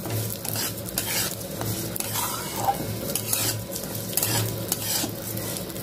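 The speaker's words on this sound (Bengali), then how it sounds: "ডালটা কিন্তু হালকা ভেজে নিয়েছি" Yellow mung dal frying lightly in soybean oil in a pan, steady close sizzle with frequent scraping stirs throughout.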